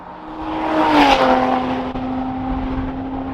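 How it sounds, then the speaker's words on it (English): A Lotus Emira with a Milltek aftermarket exhaust revs up sharply and passes on a race track, its throaty exhaust note rising then holding a steady drone as it moves off. "thanks Milltek for making such a good sounding but track day compliant exhaust"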